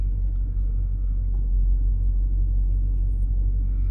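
Road traffic heard from inside a 2018 Dodge Durango SRT in New York City: a steady, deep cabin rumble of engine and road noise with no clear passing vehicles.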